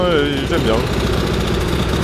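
An MTD 1365 lawn tractor engine runs loud and steady at close range, a continuous throbbing drone with no pauses.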